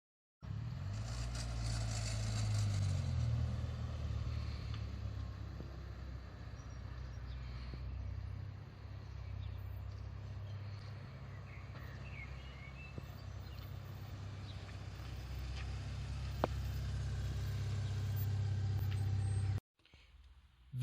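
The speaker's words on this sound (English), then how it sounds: "I love driving Rover 45s." A 2001 Rover 45 1.8 iXL hatchback driving, its low engine hum and road noise steady and continuous from inside the car, fading out abruptly at the end.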